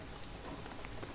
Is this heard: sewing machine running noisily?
no